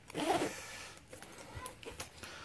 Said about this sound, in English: I'll go ahead and zip this top one back up